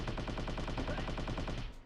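Rapid, continuous submachine-gun fire from the video game Crime Crackers rattles in an even, dense burst for nearly two seconds, then cuts off abruptly.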